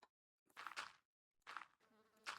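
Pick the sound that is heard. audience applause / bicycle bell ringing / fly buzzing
fly buzzing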